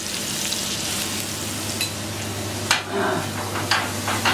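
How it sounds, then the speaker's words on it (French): Garlic, coriander and thyme fry in olive oil in a pan, giving a steady close sizzle with occasional bursts of stirring and scraping, and no talk. "On met à la poêle et ensuite on va mettre notre poisson qui doit cuisiner les doucement."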